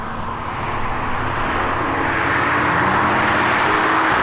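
A VW Golf R and a BMW M2 driving: a steady, loud engine drone and road rumble that builds slightly and holds, heard from inside the car with no talking.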